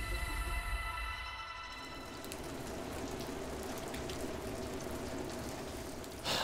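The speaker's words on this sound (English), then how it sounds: "It's raining." Steady rain falls outdoors in a faint, even hiss of drops that holds without a break and with no voices.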